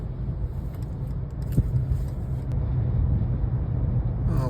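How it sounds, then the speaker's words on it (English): A 2019 Mercedes E450 Coupe engine on light throttle gives a steady, low, muted hum with road rumble, even and unchanging throughout, heard from inside the car with no talking. "It's not a particularly characterful motor, at least not on light throttle."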